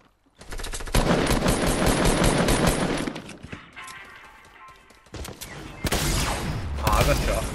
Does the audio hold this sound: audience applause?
no